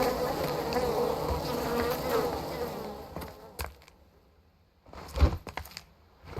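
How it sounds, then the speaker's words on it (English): A swarm of bees in the video game Arid buzzes loudly and continuously for a few seconds, then fades to quieter scattered buzzes and clicks, with no talking during it. "Oh, nuts! No. Bees!"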